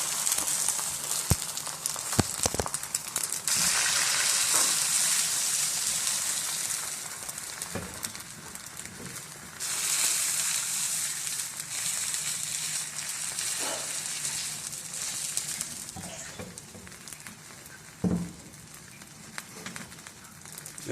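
Beaten egg sizzles and fries in leftover oil on a hot griddle, a steady bright crackle that runs throughout with occasional louder spits and pops and brief surges, close and fairly loud.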